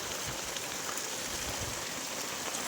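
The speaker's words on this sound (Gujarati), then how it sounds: "મિત્રો હાંજનો વરસાદ જોવો" Evening rain falls steadily on surfaces in Mahuva, Bhavnagar, during a heavy downpour: a dense, even hiss close by with scattered drops and no voices.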